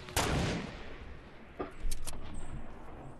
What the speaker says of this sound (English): Somebody's shooting rockets.